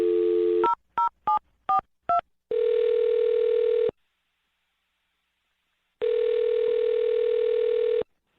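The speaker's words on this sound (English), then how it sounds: "I'm going to dial her phone number right now" A telephone plays a dial tone, then five quick touch-tone beeps as a number is dialed, followed by two long ringback tones with a pause between them.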